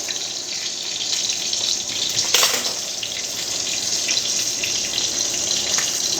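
Mineral water poured from a bottle into a pan while preparing a salsa with crema, a steady broadband splashing gush lasting several seconds at close range, with a brief louder surge midway.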